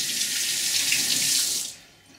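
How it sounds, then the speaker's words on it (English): Tap water gushes steadily over DIY water filters as dust is rinsed off their outsides, a loud continuous splash that stops abruptly after under two seconds. "I'm just going to wash off any dust that might have accumulated on the outside from back"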